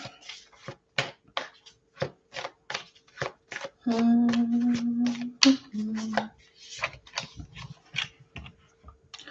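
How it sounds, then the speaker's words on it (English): Quick crisp riffling and tapping clicks in bursts as oracle cards are shuffled close by, with a brief low hum midway. "I shuffled the card."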